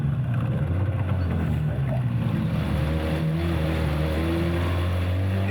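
A boat engine drones steadily on the water, a loud continuous low hum with engine harmonics over wash and wind, without pause throughout.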